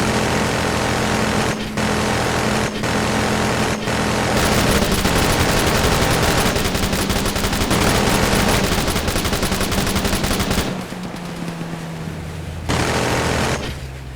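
Rapid, sustained automatic gunfire from a modded video game rattles loud and close almost without pause, broken by a few brief gaps between bursts.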